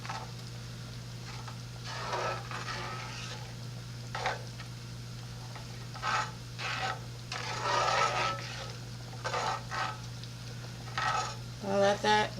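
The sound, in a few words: stirring shredded Parmesan cheese into sauce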